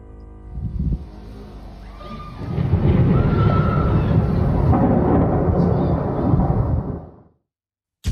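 Thundersnow during a snowstorm in Zhengzhou, Henan, China: a loud, deep rolling rumble of thunder that swells and lasts several seconds before cutting off abruptly.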